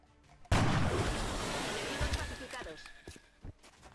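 A single loud gunshot headshot in XCOM Long War bursts out and then rumbles away over a couple of seconds, followed by a few faint thuds and scattered lighter impacts.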